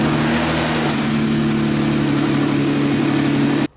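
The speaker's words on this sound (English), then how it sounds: "So now I'm going to start it and let it run for a few seconds" A Jeep Wrangler JK engine runs at a steady idle after a transmission fluid and filter change, a close, even rumble with a constant low hum that holds unchanged for several seconds before cutting off abruptly at the end.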